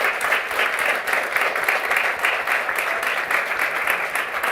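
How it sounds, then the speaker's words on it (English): Steady, dense applause from a conference audience honouring a nonprofit volunteer, sustained and even throughout with no speech over it. "Give her a big applause"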